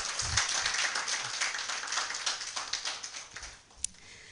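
An audience at a project launch event gives a short round of light applause that thins out and fades, ending with a single stray clap.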